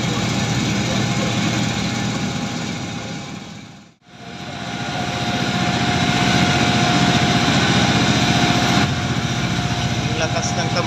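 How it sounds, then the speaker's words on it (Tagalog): An engine with a loud exhaust drones steadily, dropping out for a brief moment before resuming its continuous buzzing roar, with people talking nearby. "Ang lakas ng tambutso."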